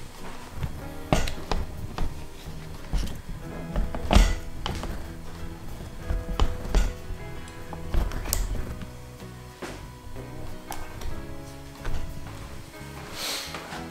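Glued-together aquarium rockwork is unpacked from a box and placed into a tank, giving a run of close, irregular knocks, thunks and scraping rustles at moderate loudness with no talking.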